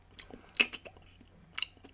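Spicy chips crunched between the teeth while chewing, a few sharp, crisp bites close to the mic with quieter chewing in between.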